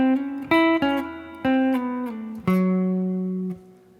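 An electric guitar plays a measure of a 7/30/77 guitar solo: about five clean, ringing picked notes with a slide between pitches, each sustaining before the next, clear and alone with no voices.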